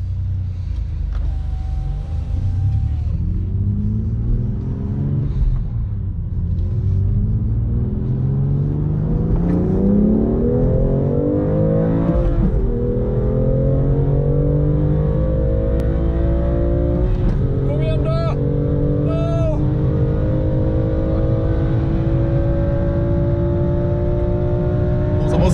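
A drag race between an Audi RS5 and a BMW M2 Competition: loud engines rev and accelerate hard with rising, shifting engine tones and gear changes, a powerful rumble sustained close by for the whole run.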